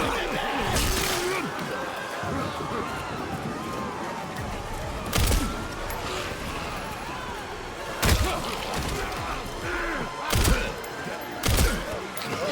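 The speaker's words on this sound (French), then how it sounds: "Shoot, balle dans la tête. Shoot, shoot." Gunfire bursts from the horror video game Resident Evil Requiem, set in a hospital: several sharp loud shots at irregular intervals over a dense game soundscape, with a player speaking between them.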